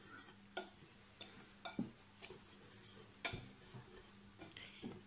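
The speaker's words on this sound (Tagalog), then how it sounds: "Haluin natin." Utensils stirring a homemade fried chicken mixture in a bowl, giving scattered soft clinks and scrapes at an irregular pace, close and faint.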